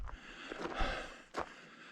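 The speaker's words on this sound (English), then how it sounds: "Panting." Heavy panting after hiking uphill at about 5,000 feet altitude, several close breathy gasps and exhalations with no speech.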